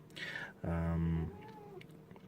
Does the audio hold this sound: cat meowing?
yes